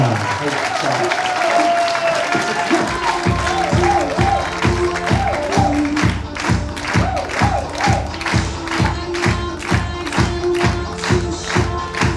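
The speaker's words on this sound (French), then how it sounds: "Applaudissements pour cette demoiselle, s'il vous plaît" Audience applause for a contestant at the Miss 15/17 national pageant, rhythmic clapping in time with loud music, steady and sustained throughout, with a voice near the start.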